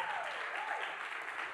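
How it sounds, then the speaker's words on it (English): A church congregation claps its hands, a dense, continuous patter of many hands heard from across the room, with a faint voice rising over it. "Come on, clap your hands."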